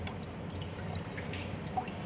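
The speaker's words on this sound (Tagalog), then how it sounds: "Pigang piga talaga na pigang piga. Yung wala na talagang tubig." Water drips and trickles steadily from grated papaya being wrung out by hand, a soft, close patter over low background hum with no talking.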